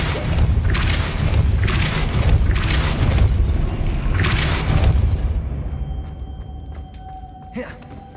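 A Depulso spell cast in the video game Hogwarts Legacy gives a loud, deep booming burst with whooshing bursts over a rumbling low end, followed by quieter lingering effects and a faint chime near the end.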